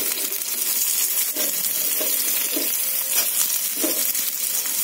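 Onions frying in oil with cinnamon, bay leaf, cardamom and cloves, a loud, dense, continuous sizzle up close, with a few soft knocks of stirring underneath.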